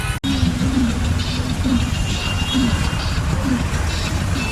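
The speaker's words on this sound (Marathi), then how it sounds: "ट्रॅफिक बघा किती लागलेली आहे" Heavy night road traffic on a congested road under repair, rolling as a steady loud wash of engines and tyres with passing vehicles throughout, and a voice talking over it.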